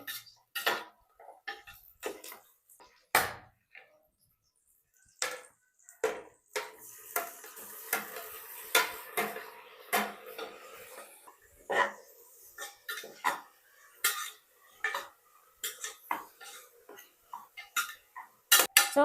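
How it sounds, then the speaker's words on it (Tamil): Ripe tomatoes mashed and stirred in a cooking pan give irregular close clinks and scrapes of a spoon against the pan, with short pauses between strokes and no talk. "ஓகே, தக்காளி நல்லா மசிச்சுட்டு அடுத்து என்னன்னு பார்ப்போம்"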